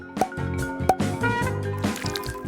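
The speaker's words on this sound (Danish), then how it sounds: "Derudover vil jeg hælde jordbærsirup på dem." Thick strawberry syrup pours and drips onto banana rolls in a kitchen cooking challenge, soft close wet dribbles and a few distinct drip plops.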